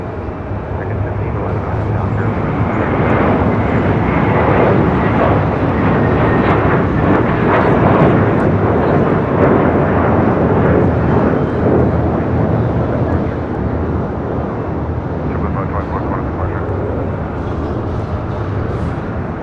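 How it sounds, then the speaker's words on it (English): An airliner touches down at Los Angeles International, a loud, rolling jet roar that builds, peaks through the middle and slowly fades, with a voice talking over it. "Finally have an arrival, about to touch down here."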